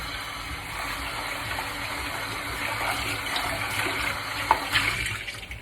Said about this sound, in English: we're gonna rinse it again or wash it